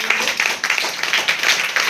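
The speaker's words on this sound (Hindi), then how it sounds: "वेरी गुड, जोरदार तालियां" Classroom applause from a group of students after a correct answer in a Hindi science lesson, brief and fairly loud, a few pulsing bursts of clapping with no talk.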